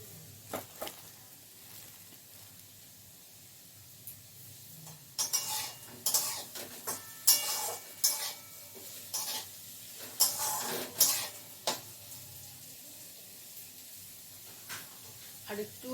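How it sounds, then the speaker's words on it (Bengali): Potatoes frying in a pan with a faint sizzle under repeated metallic scraping of a spatula stirring them, close up, with brief bursts of clatter. "চলো আলুটা ভেজে নিই তারপরে রুটি বানাবো"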